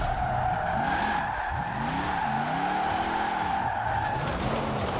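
A Rossion Q1 with rear-wheel drive drifting in the Forza Horizon 4 video game, the engine whining and revving in repeated rising and falling sweeps over a continuous loud tyre squeal, with no talk.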